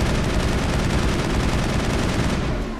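A weapon fires nonstop at a Colossus in the video game Mass Effect: a loud, dense stream of rapid shots with no pauses and no voices.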